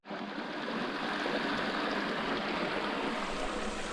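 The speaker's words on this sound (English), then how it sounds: "this water flowing through here, has etched its way" Stream water rushing steadily through Carnarvon Gorge, a continuous broadband flow with no pauses, close and fairly loud.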